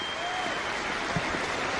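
A Test cricket crowd at Manchester applauds a New Zealand batsman's century against England, steady loud clapping and cheering throughout with a faint whistle rising above the wash of hands.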